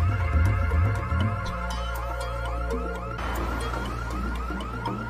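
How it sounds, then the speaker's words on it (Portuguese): A loud electronic alarm from inside a safe wails continuously, its rising and falling warble repeating rapidly, shifting pitch partway through, with no voices. "o alarme soará em alguns segundos."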